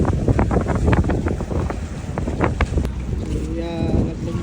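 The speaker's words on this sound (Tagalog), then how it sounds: "Grabe yung lakas ng hangin yan." Strong wind buffets the microphone aboard a boat at sea near an island off El Nido, Palawan, a constant roaring rush with thumping gusts and water noise, and a voice briefly talks.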